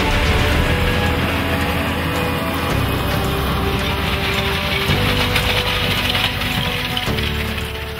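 An AGCO Challenger MT775E tracked tractor runs its 438 hp, 7-cylinder, 9.8-litre engine. It gives a loud, steady, close engine drone with a deep rumble that holds throughout, and no voices.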